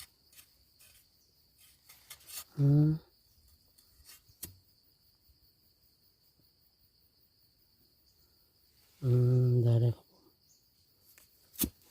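Crickets on a forested hillside give two loud, close, buzzing chirp bursts separated by long quiet gaps, with a thin steady insect whine running throughout.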